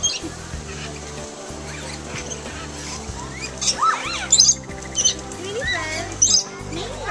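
Birds squawking and chirping at a zoo guided-tour aviary, a few sharp rising calls standing out near the middle and end over a busy background of people talking and crowd murmur.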